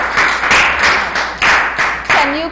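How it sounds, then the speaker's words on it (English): A classroom of students applauding at the end of a lesson, bursts of clapping in uneven waves, fairly close and loud. "give yourselves a round of applause for doing such a good job"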